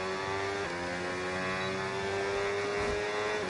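A Formula 1 car engine in the F1 26 racing game holds a high, steady whine with a brief dip, continuous and loud with no talk over it.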